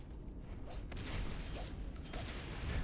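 Marines firing shotguns in the Natural Selection 2 video game during a tournament match, with rapid, overlapping blasts and mechanical clatter forming a dense, continuous battle din.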